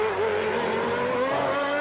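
A 1992 Formula 1 car slides slightly as it powers out of a corner at the Australian Grand Prix warm-up, its high-revving engine screaming loud and close in a sustained wail, with no talk.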